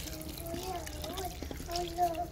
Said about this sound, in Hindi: अब इसमें पानी जाएगा।